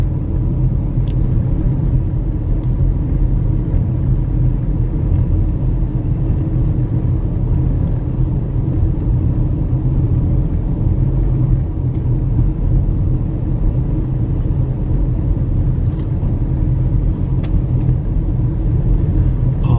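A car drives steadily along a road in Uthai Thani, Thailand, its low, constant rumble close and continuous throughout, with no talk.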